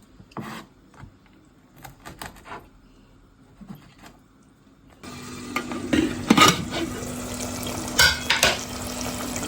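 Dried fish and jackfruit seeds are sautéed in a pan with intermittent scraping and utensil clicks, then a steady sizzle swells up louder for the rest of the clip, close by and with no voices.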